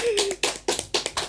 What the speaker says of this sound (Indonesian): Wah, tepuk tangan dulu dong.